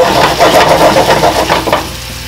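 A spoon stirs tomato-based salt cod sauce in a pot: a loud, continuous sizzling and scraping texture with rhythmic swirls, up close, fading slightly toward the end.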